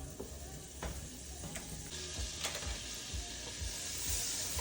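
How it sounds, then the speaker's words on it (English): Butter sizzling and crackling in a heated pan for oyster dressing, a soft steady frying hiss with scattered small pops and a few clinks, fairly quiet with no talk. "my pan is heated up, so I am just going to throw in some butter here"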